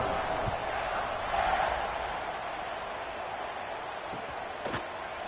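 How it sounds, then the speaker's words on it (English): Stadium crowd buzzing in the College Football 25 video game, a steady dense roar of a large crowd with a few faint thuds, under quiet background commentary. "this crowd is buzzing after that last score"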